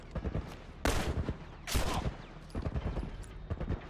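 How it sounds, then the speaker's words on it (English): Gunfire rings out in The Last of Us video game: two loud, sharp shots stand out among a scatter of quicker, fainter pops and thuds. "Ellie, I need you to shoot him."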